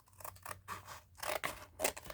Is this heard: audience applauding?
no